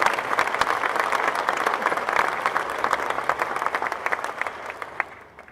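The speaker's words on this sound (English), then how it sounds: "you give that a big applause" A large crowd at Ohio Stadium applauds loudly at a statue unveiling, the dense clapping gradually thinning out and fading toward the end.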